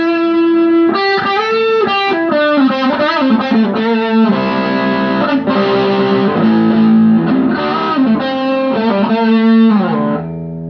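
Electric guitar through a Joyo U.S. Dream distortion pedal, distortion and tone at 3 o'clock, plays a loud, sustained melodic line with bent and held notes, steady and close, no voices.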